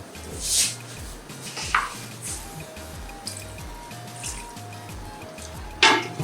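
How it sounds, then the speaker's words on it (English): Water is poured into a cooking pot in a kitchen, giving a low steady trickle with a few louder splashy drips on top, close by. "Add a little water."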